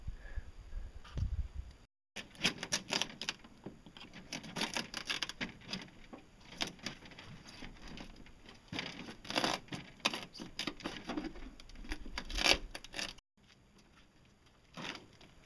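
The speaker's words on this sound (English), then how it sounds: "I'm surfacing my fiberglass here with paper just because it makes a nice surface." Fiberglass is surfaced by hand with sandpaper on an ultralight solar speedboat build, making a rough, scratchy rasping in irregular strokes at close range. It runs almost without a break, with a brief pause near the start and a quieter stretch at the end.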